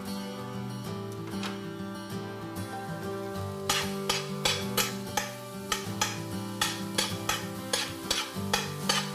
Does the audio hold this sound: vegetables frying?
yes